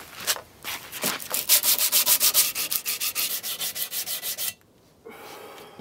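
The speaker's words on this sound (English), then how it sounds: "Now that's probably good enough for sandpaper." Sandpaper rubs back and forth over a model power sword in a quick, even rhythm of about twenty close, loud strokes, then stops abruptly.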